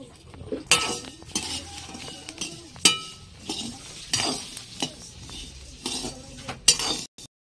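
Broken rice dry-roasting in a pan for Saraswati Puja sweets, with a utensil stirring and scraping it in irregular strokes and scattered metallic clinks, fairly close, no voices.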